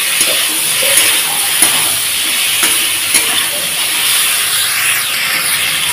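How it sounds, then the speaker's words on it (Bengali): Vegetables fry in a pan with green chilli, cumin and bay leaf, giving a loud, steady sizzle and hiss. Faint clicks of stirring are heard now and then. "তো দেখো সবজিটা বেশ সুন্দর আমার ভাজা ভাজা হয়ে গেছে"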